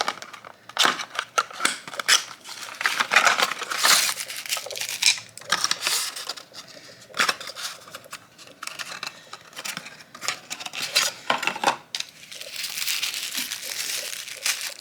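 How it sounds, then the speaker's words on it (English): Plastic wrapping being peeled and torn off a Sonic Tails yellow roller toy box, a close, busy run of crinkling, crackling and rustling with short louder bursts throughout. "I'm just going to simply unwrap the whole box itself. The wrapper."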